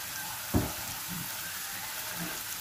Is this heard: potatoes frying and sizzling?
yes